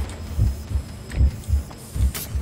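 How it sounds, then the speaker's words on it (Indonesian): A heavy pounding heartbeat after a character sprints in the horror co-op shooter GTFO, low thuds beating steadily and close, about five beats, with no talk over it. "Ini kalau keseringan lari deg-degan memang ya."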